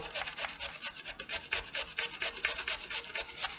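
Peeled potatoes are grated on the large holes of a grater, a close, rhythmic rasping with quick regular back-and-forth strokes, about four per second, with no talking.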